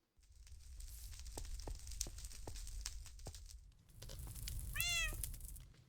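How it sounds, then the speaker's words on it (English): Minecraft cats meow in a rising, wavering call near the end, after a stretch of soft clicks and blocky tapping over a low game-ambience hum. "We have our kitty cats."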